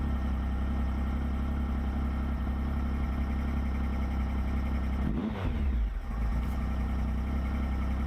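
A 2011–2015 Triumph Speed Triple engine idles steadily during throttle balancing, a continuous low rumble with a brief shift in tone midway, heard close up.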